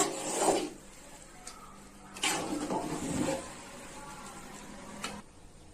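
Chicken biryani is stirred in a pot, giving a few close scraping, rasping strokes of a spoon against the rice and the pot, separated by short quiet gaps.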